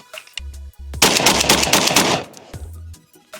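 A Benelli shotgun fires in a quick burst of loud, sharp blasts that echo outdoors on a range, preceded and followed by brief low mechanical clatter.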